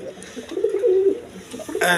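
Pigeons of the Chuina and Sulli breeds coo on a farm, a short rolling coo rising in the middle of the clip, close by, with faint background noise around it.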